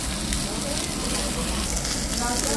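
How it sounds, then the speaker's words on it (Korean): Eel grilling at a restaurant table, a loud continuous crackling sizzle close by, steady throughout with no voices. "지금 장어가 지글지글 잘 익어가고 있습니다."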